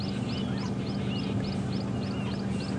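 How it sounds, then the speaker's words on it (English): A Diederik's cuckoo calls on a quiet morning at Djuma Game Reserve, giving a steady run of about eight short, clear whistled notes at a distance over a low, constant hum. "You would have heard the Diederik's cuckoo going there."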